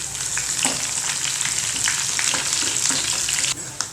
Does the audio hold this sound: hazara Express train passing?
no